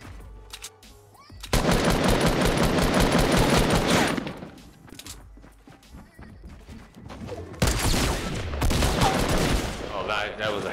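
Loud bursts of automatic gunfire and rapid shots from a Fortnite match, with dense firing in two stretches separated by a quieter pause; someone talks over parts of it.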